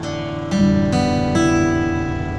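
A tuned guitar strummed a few times in quick succession, full chords ringing out clearly and sustaining at the end.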